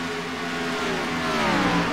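Race car engine in a sim racing game at Chicagoland, a steady whining drone that climbs slightly in pitch as it accelerates, loud and continuous with no talk over it.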